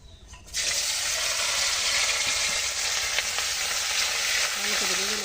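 Crabs dropped into hot oil in a wok with radhuni seeds, bursting into a loud, steady sizzle that starts abruptly and holds continuously, with faint stirring scrapes near the end.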